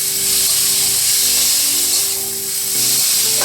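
Banana flower cooked with green chillies, stirred and fried in a pan: a loud, steady sizzle with scraping stirring strokes, close up and without speech.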